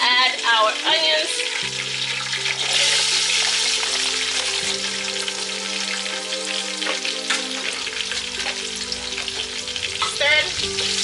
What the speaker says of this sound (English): Then we're going to add our onions.